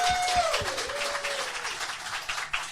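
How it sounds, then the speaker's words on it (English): Audience at a live comedy podcast show in Seattle applauding in a dense, sustained wash of clapping, with a voice speaking briefly over it at the start. "Another round of applause for Tyler"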